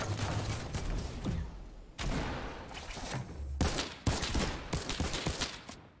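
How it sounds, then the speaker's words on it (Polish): Rapid bursts of gunfire in Fortnite crackle loud and close in several volleys separated by short gaps, with mechanical clatter between shots and no talk. "O kurwa, ktoś mnie strzela."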